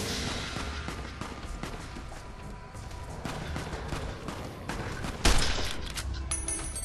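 Enemy gunfire in Fallout: New Vegas, a dense stream of rapid shots and bursts with one heavier crack near the end.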